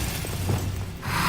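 A Glacius ice spell in Hogwarts Legacy lands with a brief crackling, shattering burst over a low rumble, fairly quiet and short.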